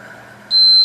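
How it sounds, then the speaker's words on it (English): A workout interval timer gives one steady electronic beep, close and clear, sounding alone over a quiet room hum at the end of a seated cardio and strength session. "that was the last time that the timer was going to beep"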